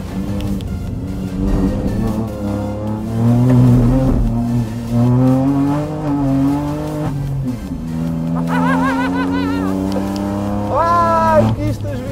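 A Kia Picanto race car with a tuned engine of about 140 horsepower, front-wheel drive and 195 tyres, revs loudly up and down through the gears nearby, with a brief whine near the end and someone talking over it.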